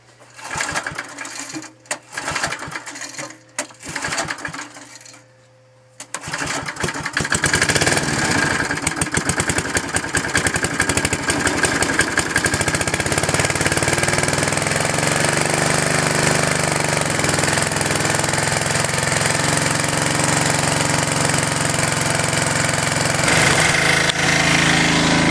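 Small gasifier-fuelled engine sputters and catches after a few false starts, then settles into a loud, steady, rattling run that continues close by without talk.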